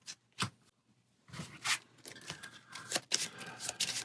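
Cards shuffled during a turn of the Bardsung tabletop board game: a few short papery riffles and rustles, close and fairly quiet, with a brief pause before a busier stretch of card handling.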